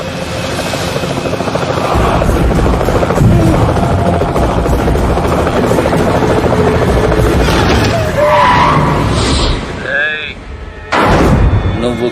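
A helicopter thunders through a Telugu action movie fight scene, its loud, steady rotor chop running for several seconds alongside impact thuds and bangs, with a voice cutting in near the end.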